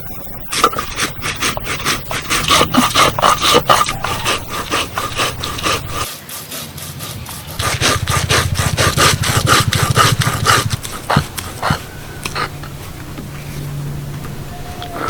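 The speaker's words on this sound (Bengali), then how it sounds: "তো এখন আমি এটাকে শিলনোড়াতে বেটে নেবো" Rice with garlic cloves and green chillies is ground by hand on a stone slab with a grinding stone, making loud rhythmic back-and-forth rasping scrapes, close and continuous, with a brief pause midway.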